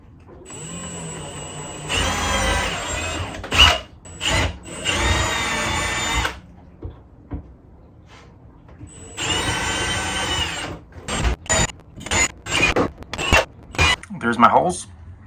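A power drill bores a line of holes in a sailboat for mounting lights, several loud whirring bursts of a few seconds each, then a run of short stop-start pulses, with brief quiet gaps between.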